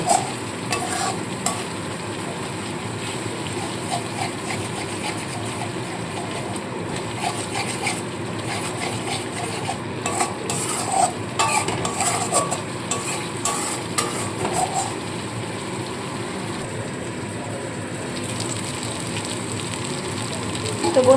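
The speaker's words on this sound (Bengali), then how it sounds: "আঁচটাকে একদম কমিয়ে দিয়েছি দিয়ে সমানে মশলাটাকে কষিয়ে নেবো" Spice masala frying in a pan over a low flame, stirred steadily to make a veg stuffed-potol dish, giving a continuous soft sizzle with scraping strokes throughout.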